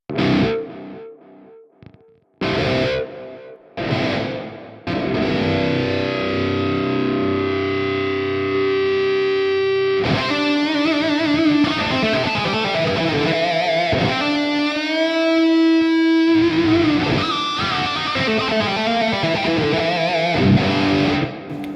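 Distorted electric guitar lead lines played through the Mercuriall Ampbox amp simulator, with sustained bends and fast melodic runs over a dense driven tone. Close and continuous after a few short stabs, with no talking.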